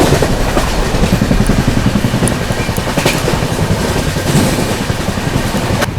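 A CR Rajdhani Express train runs at speed while overtaking, with a steady loud roar and fast rhythmic clickety-clack of wheels over rail joints throughout, close by and with no talk.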